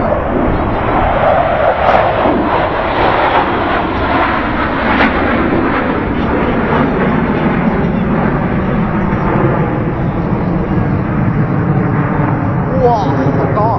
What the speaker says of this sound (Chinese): 发动机还是破音障的声音